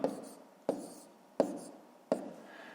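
A pen writes out a multiplication by hand, with four sharp taps at an even pace and soft scratching strokes after each one, close and quiet.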